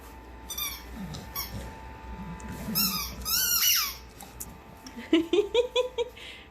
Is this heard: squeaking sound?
yes